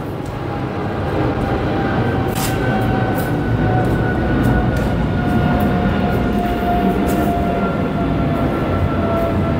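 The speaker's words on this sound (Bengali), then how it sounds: "সো প্লেনের আওয়াজ, এই জন্য একটু থামলাম।" Airplane passing overhead, a continuous loud roar and rumble that holds steady throughout with no talk.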